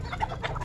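Bantam chickens clucking at feeding time in the countryside, a brief burst of a few close, soft clucks over low outdoor background noise.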